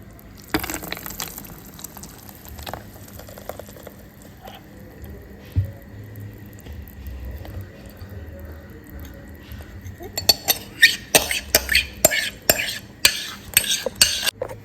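Papaya ice cream poured into a container: soft utensil scraping and light clinks against a bowl, faint at first, then a quick run of louder taps and scrapes near the end, no voices.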